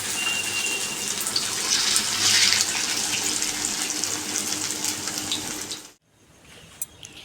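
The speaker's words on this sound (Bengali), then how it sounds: "তাই আমি সব বড় বড় করেই ভেজে নিচ্ছি" Large pakoras made from flattened rice deep-fry in oil with a steady, bubbling hiss that fades out sharply, leaving only faint crackles afterward. Nobody speaks.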